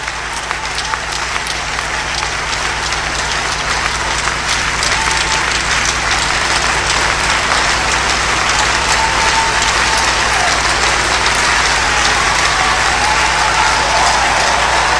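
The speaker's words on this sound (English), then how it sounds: "With a clap offering unto the Lord, let's appreciate Apostle Dr. Amos G. Mackin one more time." Church congregation at a farewell and induction service gives a long, loud, sustained round of clapping, a dense continuous roar of many hands filling the hall.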